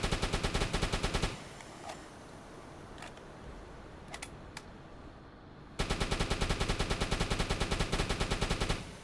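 Rapid automatic gunfire from the C3 ship in the submarine game UBOAT rattles in two loud sustained bursts, separated by a quieter stretch with a few scattered single shots.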